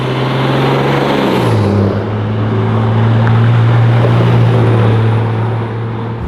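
A 1978 Squarebody dually truck swapped to a Cummins turbo diesel rumbles with a loud, steady low drone, the engine note dipping and then settling into a constant hum as it drives, with no voices over it.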